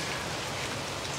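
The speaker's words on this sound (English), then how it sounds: "It's pouring rain outside" Pouring rain outside: a dense, even hiss of steady rainfall fills the whole stretch without pause, broad and continuous, with no voices over it.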